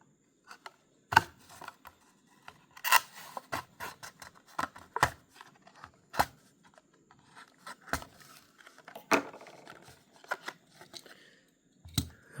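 A Hot Wheels mainline toy car package, a McMurtry Speirling, being unboxed: sparse, sharp crinkles, snips and scratchy tears of card and plastic in separate bursts, close and fairly quiet, with no talking.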